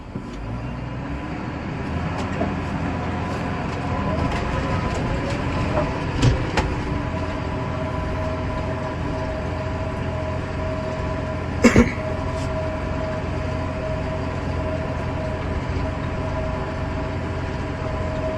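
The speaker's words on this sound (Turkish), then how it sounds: "İşte tiller, Aysan neyse tarlayı bu şekilde düz bir şekilde çıkarıyor." A Massey Ferguson 7715 Dyna-6 tractor of 150 horsepower pulling a 52-tine tiller across a field being prepared for wheat; steady low engine drone and rumble throughout, with a brief louder clunk partway through.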